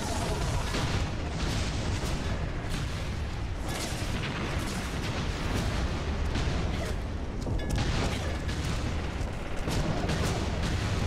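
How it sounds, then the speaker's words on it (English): Gunfire and explosions in the online shooter Hazard Ops during a versus match: relentless overlapping shots and booming blasts form a loud, unbroken wall of battle noise. "Come on, keep shooting."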